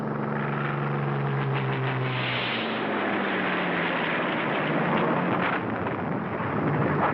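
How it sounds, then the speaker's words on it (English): Carrier-based warplanes take off to strafe and bomb during the Iwo Jima assault, heard as a loud, steady roar of aircraft engines with low rumbling and shifting drone, continuous throughout without any talk. "Planes from our carrier force take off to strafe and bomb."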